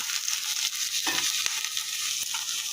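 Potatoes and onions fry in a pan with a steady, close hiss, broken by a few short clinks and scrapes of stirring.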